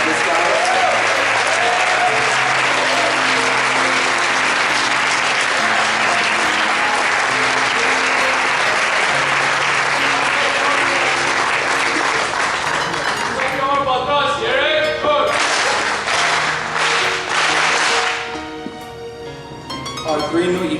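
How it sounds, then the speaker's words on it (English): A hall full of guests gives a long, loud round of applause at an Eagle Scout Court of Honor, steady dense clapping with some voices mixed in, easing off toward the end. "Can we get a round of applause for our 3 new Eagle Scouts?"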